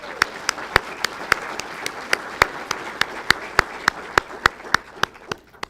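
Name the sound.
applause for event sponsors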